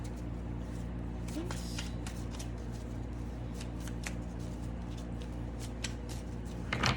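Tarot cards shuffled repeatedly in a steady, close riffling stream over a low constant background hum, with a slightly louder flurry at the very end.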